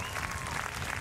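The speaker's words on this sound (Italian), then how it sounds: "I would like you to give Amanda Atlas a very big round of applause" Applause from an audience at a riverside opera concert follows a vocal performance, a dense, steady wash of many hands clapping close by, with faint murmuring voices mixed in.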